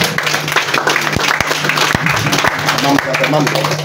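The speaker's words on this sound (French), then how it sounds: "il faut applaudir le maire" An audience at a philosophy study session applauds the mayor with loud clapping mixed with crowd noise and a few sharp individual claps standing out. A voice speaks over it.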